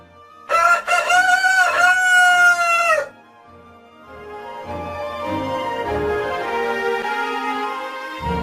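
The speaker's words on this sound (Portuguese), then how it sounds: "De um outro galo que apanhe o grito de um galo antes e o lance a outro." A rooster crows loudly and close by in one long drawn-out call, then a fainter, more distant crow answers with softer rising calls.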